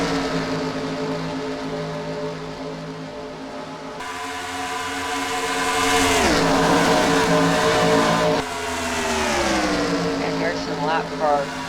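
Race cars battling for the lead in an oval cup series video game at Auto Club, engines droning loudly with rising and falling pitch as cars pass and shift, under a commentator talking throughout.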